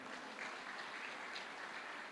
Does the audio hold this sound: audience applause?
yes